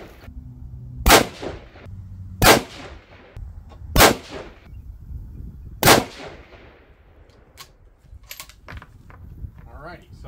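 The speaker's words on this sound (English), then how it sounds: "you're going to see a really quick kind of shooting of all of these groups" Rifle shots from a 6mm ARC at an outdoor shooting range: four loud, sharp reports spaced roughly one and a half seconds apart, each with a short ringing decay, followed by quieter clinks and handling noise.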